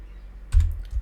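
A short burst of a few soft, dull keystrokes on a computer keyboard while a memory location is entered, close and quiet with no voices.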